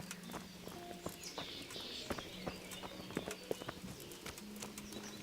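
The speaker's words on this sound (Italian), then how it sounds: "Ora vediamo se il mio cavallo arriva fuori." A horse in Kingdom Come: Deliverance trots up with irregular hoof clops drawing nearer, over a soft ambient game drone with faint birdsong.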